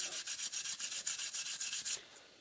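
A welding brush scrubs an aluminum baseplate to clear oxides before welding, a quick run of rhythmic, evenly spaced raspy strokes close up that stop abruptly, leaving a faint tail.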